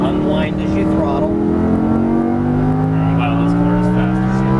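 Lamborghini Huracan LP610 engine pulls hard under throttle on a track, its loud, close roar climbing steadily in pitch for several seconds without a break.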